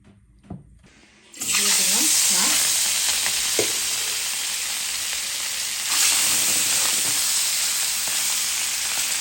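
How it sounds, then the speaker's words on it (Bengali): Small fish seasoned with turmeric, chili and salt go into hot oil and burst into a loud, continuous sizzle after a brief quiet start, with a faint clink of utensils early on. "তেল দিয়ে দিলাম মাছ ভাজার জন্য"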